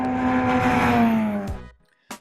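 A Nissan DeltaWing race car at Le Mans roars loudly past with a strong, steady engine tone that drops in pitch, cuts out abruptly, then returns in one brief burst after a short silence.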